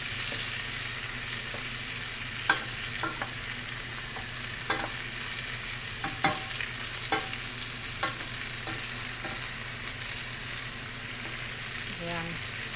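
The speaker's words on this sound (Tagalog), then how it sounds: "So, i-fry lang natin siya ng butter." Beef kafta frying in unsalted butter in a pan sizzles steadily up close, with occasional scraping stirs and small pops standing out over the constant crackle, and no talk.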